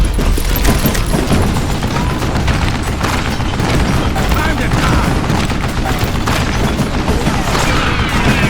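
Dense, continuous gunfire from the Western shooter video game Gun, loud and unbroken throughout, with booming reports packed tightly together like a heavy firefight.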